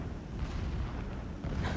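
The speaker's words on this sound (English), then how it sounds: "The blasting should cover any noise you make." Distant blasting explosions rumble in Horizon Zero Dawn, a continuous low, heavy boom-laden roar with a slight swell near the end and no speech over it.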